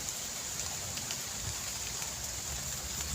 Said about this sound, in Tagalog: Nabutan kami ng ulan so nag-stop muna kami.